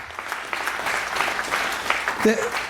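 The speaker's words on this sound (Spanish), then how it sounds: "Denle fuerte aplauso al Señor." A church congregation claps loudly for the Lord during a sermon, a sustained burst of many hands with a brief voice rising near the end.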